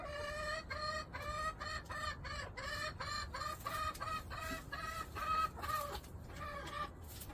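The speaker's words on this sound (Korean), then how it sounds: "수탉봉이가 먹지도 못하게 하고 내려오지도 못하게 하고요" A rooster clucks in a steady series of short, throaty calls, close by, with continuous farmyard background noise.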